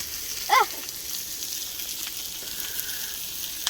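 A steak sizzling and frying in a pan inside a truck, a steady close hiss of fat with a brief sharper spit near the start.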